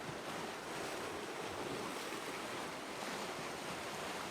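Sea waves wash steadily against a rocky shore, a continuous close surf roar with wind buffeting the microphone throughout.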